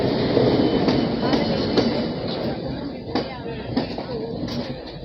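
A local train leaving Chennai Egmore rumbles close and loud, with rhythmic clatter and faint squeals along the track while someone talks over it.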